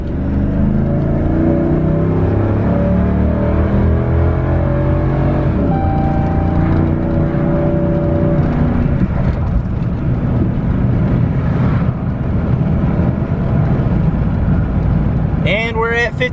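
A 2012 Dodge Ram 2500 with a 5.7 Hemi engine accelerates while towing at half throttle, its loud steady engine roar building through several gear changes as someone talks over it.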